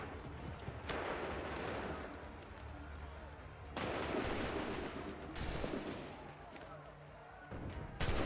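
Musket volleys and scattered gunfire ring out in a battle in the video game Assassin's Creed III, loud bursts and booms layered with shouting voices and battlefield din.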